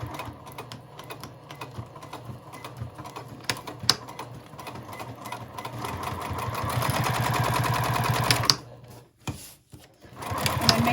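Sewing machine back-stitching over a D-ring attachment on a small fabric ID wallet, close and clear, with rapid rhythmic needle chatter that speeds up into a steady run and then stops and restarts in short bursts.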